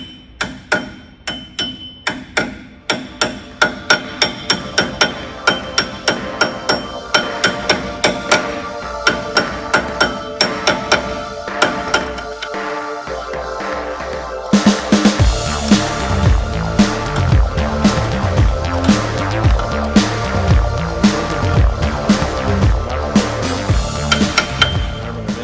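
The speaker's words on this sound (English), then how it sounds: "just take a hammer, this little 16-ounce one, and you can just start tapping them" A small 16-ounce hammer taps bearing races into a Land Cruiser front axle hub, dozens of sharp, ringing metal clinks in a regular rhythm, growing louder and denser partway through.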